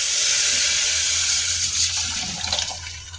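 Water poured into a pan of horse gram soup makes a close, steady rushing splash that thins and tapers toward the end, with no voices.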